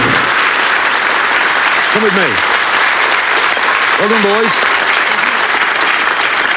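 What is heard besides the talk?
audience applause on a TV game show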